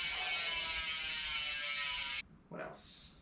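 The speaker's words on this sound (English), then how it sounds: "The rear hub is Industry 9 Hydra, which has just the most beautiful sound to it." Industry 9 Hydra rear hub freewheel on a custom bikepacking bike ratchets in a loud, rapid, high-pitched buzz for about two seconds, then cuts off abruptly, followed by a couple of brief mechanical clicks.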